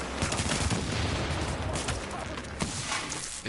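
Rapid gunfire in The Division video game, with a sniper firing among dense, continuous crackling shots and distant booms throughout.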